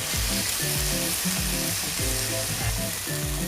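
Chicken brushed with a little mustard sizzling loudly as it grills in a hot pan, a dense steady frying hiss with rhythmic scraping and knocking from stirring or pressing, close and continuous.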